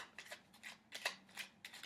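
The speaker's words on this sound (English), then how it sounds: "I'm going to begin shuffling your cards now" Tarot cards are shuffled by hand in a quiet room. A series of soft riffling bursts rises and falls in a steady rhythm, faint and close, with no talk.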